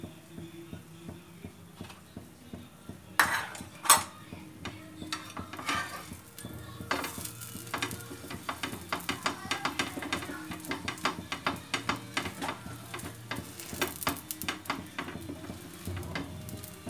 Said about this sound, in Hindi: घी लगाना है हमें और उसके बाद इस तरीके से इसको सेकना है